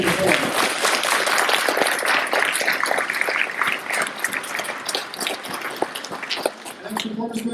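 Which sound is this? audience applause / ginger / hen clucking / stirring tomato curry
audience applause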